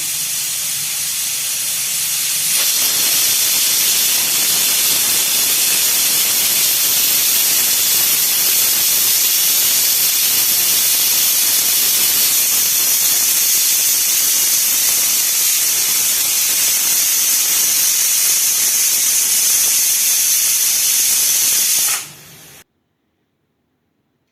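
A pressure cooker of chickpea curry releasing steam, a loud continuous hissing jet that holds steady for over twenty seconds before cutting off abruptly, close and alone.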